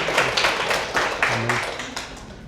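A small audience claps to welcome a visiting professor to a talk, a brief burst of handclaps that is sharp at first and then gradually thins out and fades.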